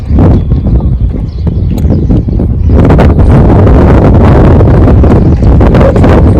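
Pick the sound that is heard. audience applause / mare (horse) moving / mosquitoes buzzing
mare (horse) moving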